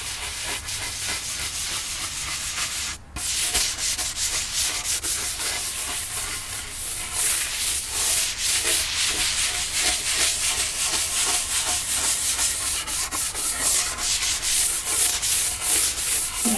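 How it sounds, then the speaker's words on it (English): Steady close rubbing and sanding-like friction as wax is wiped in circular motions off a wooden table, continuous and fairly loud throughout with one brief pause near the start, no talking. "I'm just going to do some circular motions around just to get all the wax off from all the different corners."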